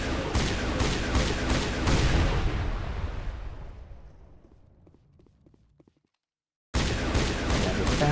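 Rapid gunfire and explosions from the video game Mass Effect Legendary Edition, a dense loud barrage of shots that fades out into near silence before the firing abruptly resumes at full volume.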